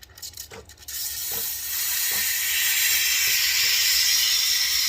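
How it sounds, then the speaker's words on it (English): Steam wand of a Breville Bambino Plus espresso machine switching on: a few soft clicks, then a steady, loud broadband hiss that builds and holds without talk. "now if I press the steam button, I can see that it's activated immediately"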